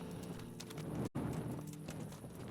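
Horse hooves clip-clop steadily in an open-world video game while traveling on horseback, a continuous rhythmic trot heard close under ambient game sound, with a brief dropout midway.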